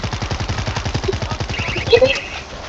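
Rapid, evenly spaced machine gun bursts in World War Z rattle in a fast steady rhythm, close and fairly loud, tapering off near the end with a brief other sound.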